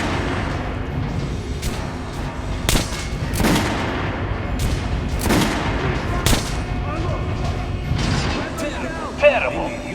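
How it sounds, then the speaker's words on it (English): Gunshots fired at a training dummy in Metro Last Light Redux, a series of sharp separate reports a second or so apart over a low game background, with a voice talking in between. "Try shooting with the center of the regular dummy's chest."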